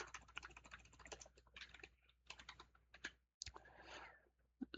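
Typing on a computer keyboard in a home security-lab setup, bursts of quick close key clicks separated by short pauses, quiet and alone.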